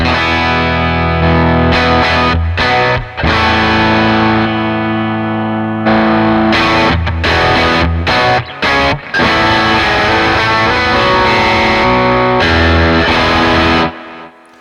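Distorted electric guitar through a Timmy overdrive pedal capture, chords ringing loud with brief stops and restarts, no talking.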